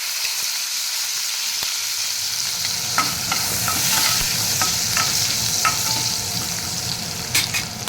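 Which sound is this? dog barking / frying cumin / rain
frying cumin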